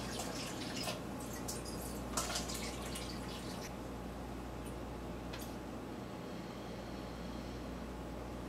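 Wine siphons from a carboy into a container, making a faint, continuous trickle with a few soft drips and small clicks over a quiet room background.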